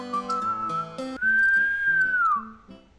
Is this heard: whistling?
yes